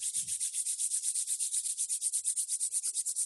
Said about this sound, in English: now rub your palms